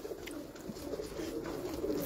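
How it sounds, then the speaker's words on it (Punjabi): Pigeons coo steadily and close by, a soft continuous rolling murmur with no voices over it, from a prized female pigeon and others in Ustad Rana Munna's flock. "ਮੇਰੀ ਖੂਬਸੂਰਤ ਕਬੂਤਰੀ ਮੇਰੀ ਮੋਸਟ ਫੇਵਰਟ ਕਬੂਤਰੀ"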